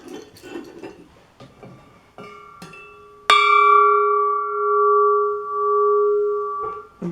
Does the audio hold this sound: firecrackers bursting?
no